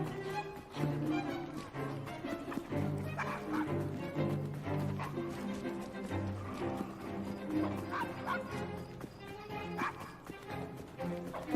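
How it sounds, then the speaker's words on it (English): A dog barks repeatedly inside a crowded Victorian London pub in Assassin's Creed Syndicate, sharp yips and bow-wows rising over steady game music and ambient background murmur. "No! Quiet! Bad dog!"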